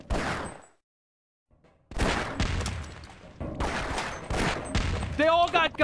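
Bursts of enemy gunfire rattle through a Half-Life mod firefight, dense volleys of shots in several loud clusters separated by a short silent gap, with a warbling electronic effect near the end.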